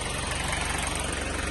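A Toyota 1KZ-TE diesel engine idles with new Denso fuel injectors fitted, a steady, even, close rumble running alone with no knock standing out.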